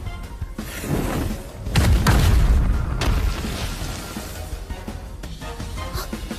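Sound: hand grenade explosion effect in a drama

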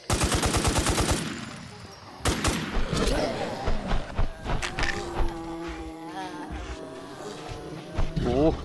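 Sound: gunfire shooting centipede boss in video game NewZ

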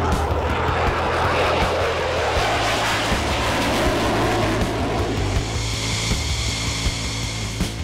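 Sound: F-16 fighter jet flying overhead

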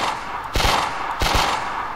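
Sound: gunshot when testing shooting in a third-person shooter game

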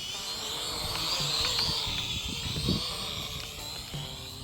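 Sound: toy quadcopter drone flying in wind

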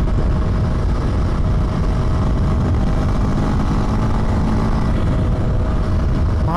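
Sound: Husqvarna Svartpilen 401 single-cylinder motorcycle engine running

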